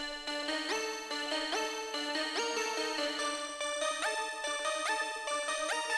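A key synth preset in FL Studio with Fruity Distortion added for extra harmonics, giving a bright, buzzy keyed melody that repeats in steady notes, upfront and alone.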